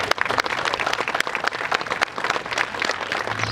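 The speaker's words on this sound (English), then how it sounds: "So one more time, a big round of applause for the Board of Directors." Audience applause for a board of directors fills the room, dense and steady clapping from a sizable crowd throughout, loud and close with no talk over it.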